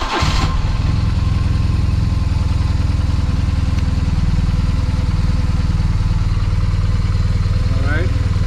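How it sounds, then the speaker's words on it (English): A BMW R1200GS motorcycle engine fires up and settles into a steady, loud idle close by, with a continuous low throb and clatter throughout. "Okay, I'm starting the bike."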